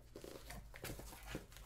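Cardboard box of manga being opened with its top already cut, giving soft close crinkling and tearing rustles in short irregular bursts, quiet and alone.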